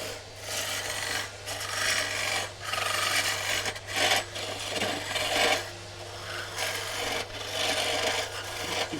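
Harsh grinding and rasping as a small stone mortar is drilled, in repeated bursts with short pauses, loud and close, and no voices.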